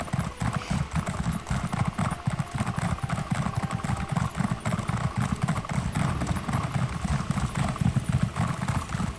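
Rapid hoofbeats of a merchant's horse in a video game clip-clop continuously at a steady trot, moderately near, with a low mechanical hum and faint background ambience.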